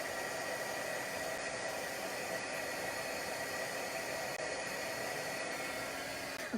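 Heat embossing tool blows steadily and loudly for several seconds close by while embossing a card with vellum, a continuous broadband whoosh with no talk over it.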